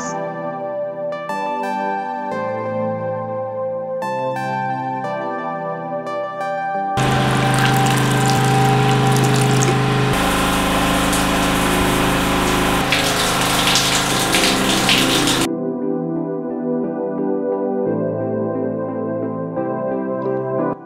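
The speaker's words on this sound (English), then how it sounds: "So this is the toilet for the children's bedroom. Flushes." Toilet flushing in a new-build flat in Lagos, Nigeria, a loud rushing gush of water for several seconds, set amid steady background music.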